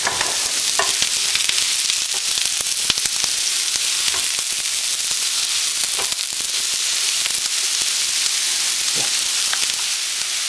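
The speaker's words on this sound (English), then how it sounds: "we've got the mushrooms, peppers, and onions here, and I'm just going to go ahead and add those to the griddle" Mushrooms, peppers and onions sizzle steadily on a hot griddle for a pork tenderloin cheesesteak, a loud continuous fry with occasional crackles and scraping stirs.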